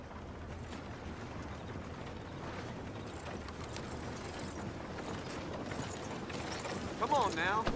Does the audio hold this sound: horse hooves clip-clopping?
yes